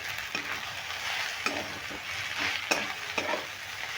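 Onion flower fritters frying and being stirred in a pan, a steady oil sizzle broken by several sharp spatula scrapes, close and moderately loud with no talking.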